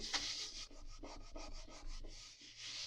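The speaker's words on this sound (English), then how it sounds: "So we're rubbing with the palm of the hand, holding it steady with the other" The palm of a hand rubs firmly back and forth over paper held steady on a textured surface to make a printmaking rubbing. The scratchy strokes come in a quick, even rhythm, close and fairly quiet, with no voices.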